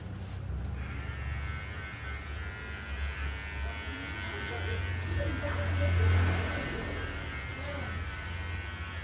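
Electric clippers buzz close and steady during a barber haircut in Bali, a continuous hum that swells briefly near the middle, with a voice talking over it.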